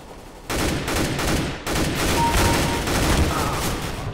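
Rapid bursts of gunfire from the tactical shooter CS:GO in Arms Race mode, loud and close, with a short break before the firing resumes and carries on steadily.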